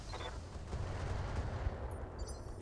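Mech weapons fire at an enemy Archer in Battletech, producing a dense, continuous rumble of gunfire and explosions that stays loud throughout with no pauses.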